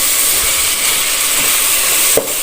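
Chicken feet, necks and heads sautéing in a pan, giving a loud continuous hiss and sizzle with a few faint stirring clinks, close up and steady, no talk.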